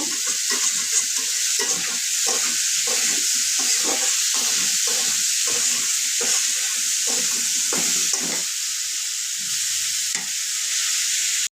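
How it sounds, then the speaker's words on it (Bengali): Potatoes fry in oil with onion, green chili and garlic, giving a steady, close sizzle with rhythmic scraping strokes of a stirring spoon throughout. "এই যে পেঁয়াজ, কাঁচামরিচ, রসুন এগুলো আমি এটার সাথে ভেজে নেব।"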